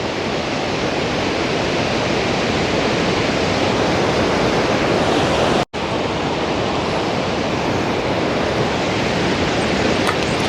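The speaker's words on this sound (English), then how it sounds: "That is the mighty Kaieteur Falls." A steady, powerful roar of falling water at Kaieteur Falls, Guyana, dense and unbroken, with a brief dropout midway.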